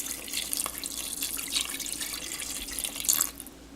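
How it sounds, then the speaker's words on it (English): Tap water runs steadily into a pot while cabbage rolls are being prepared for cooking, a continuous hiss of flow with a brief louder splash near the end and no talk. "Now I'm going to add water, just enough to cover it, about maybe like a 1/4 inch high with water."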